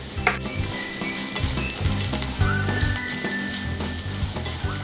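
Onions, chopped green chillies and curry leaves sizzle steadily in a pan, with a soft continuous hiss and occasional light clinks of a stirring utensil.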